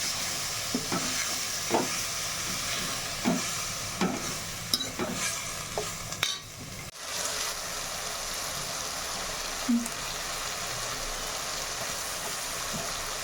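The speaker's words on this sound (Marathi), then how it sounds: "आपली भाजी फ्राय होत आहे" Shredded cabbage and chana dal fry in hot oil with curry leaves and coriander, a steady close sizzle broken by periodic scraping stirs of a spoon against the pan, with no one talking.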